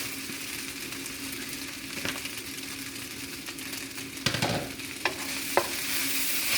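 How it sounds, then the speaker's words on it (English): Shrimp and soy sauce fried noodles stirred in a pan, a soft continuous sizzle with scraping utensil strokes and a few sharp clatters toward the end, no talking. "I'm going to give that a stir."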